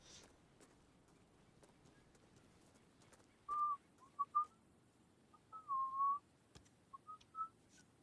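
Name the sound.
whistling while playing the video game Hitman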